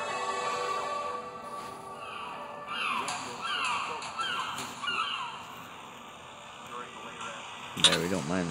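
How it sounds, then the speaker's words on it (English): Seagulls cry in the naval battle game Warships Blitz with its music turned off, a few harsh calls drifting over game sounds and someone talking, with a sharp burst near the end. "we don't mind the seagulls"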